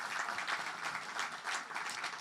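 Audience applauding Edith Cyr at a social housing launch event in Québec, a dense continuous wash of clapping from a crowd, fairly even in level throughout.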